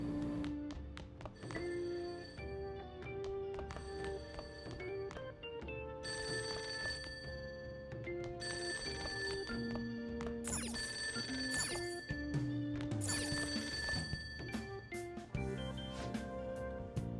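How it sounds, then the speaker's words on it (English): A telephone rings downstairs in the video game Persona 5, repeating rings layered over tonal game music and soft thunks, with no speech. "That ringing sound isn't coming from my cell phone."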